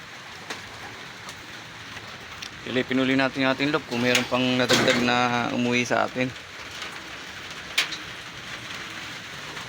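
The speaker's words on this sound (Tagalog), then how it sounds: "umuulan na" Steady rain falls through the whole stretch as a soft, even hiss at a pigeon loft during a homing pigeon race in the Philippines, with someone talking over it in the middle.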